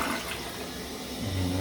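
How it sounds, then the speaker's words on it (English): A toilet, just repaired after leaking at its base, is flushed, giving a steady loud rush of water that swells slightly toward the end with no talking. "So I'm gonna do my first flush."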